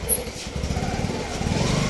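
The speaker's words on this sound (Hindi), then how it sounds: "ओनू गर्म तो कर ला पहला मोटरसाइकिल तू गर्म ठीक है जा" Motorcycle engine being warmed up, a rapid low putter with a steady idle pulse, moderately close and continuous, with a faint voice briefly at the start.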